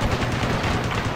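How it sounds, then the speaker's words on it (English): Rapid gunfire from a rooftop in a Battle of Moscow war game, a dense, loud burst of overlapping shots filling the whole moment with no pause. "Taking hostile fire from rooftop."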